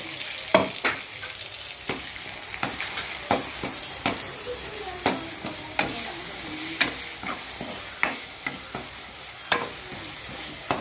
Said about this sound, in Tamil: நம்ம அரைப்பையும் சேர்த்து ஒரு வதக்கலாம்